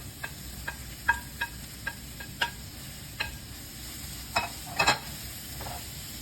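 Onion, green pepper and chopped jalapeño frying in oil for enchiladas, with faint low sizzling and a series of scattered clicks and taps from stirring, fairly quiet with no talk.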